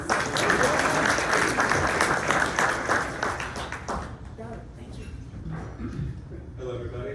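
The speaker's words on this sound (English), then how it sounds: "Let's give them a round of applause" An audience at a community morning event applauds, a loud dense burst of clapping that fades after about four seconds into scattered claps and crowd murmur.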